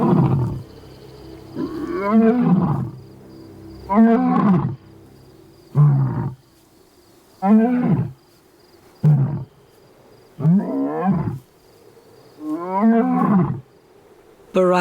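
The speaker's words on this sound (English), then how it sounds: "Lions are the only cats to form such tightly knit groups, not just for hunting, but to defend their land and their cubs." A lion pride roars in a series of deep, powerful calls, about eight bursts spaced a second or two apart, loud and close with quiet gaps between.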